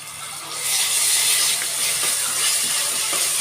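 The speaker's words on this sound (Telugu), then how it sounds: "1 స్పూన్ అల్లం వెల్లుల్లిపాయ వేస్తున్నాను." Ginger garlic paste hisses and sizzles steadily in hot oil with frying onions, a loud, continuous bubbling crackle that rises after a quiet start and holds to the end.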